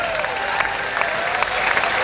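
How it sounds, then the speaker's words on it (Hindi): An audience at a Hindi comedy poetry gathering claps on cue, a brisk, even burst of many hands with a few sharper claps standing out. "जरा दोनों हाथ खड़ा करके ताली वाली बजाइए आप।"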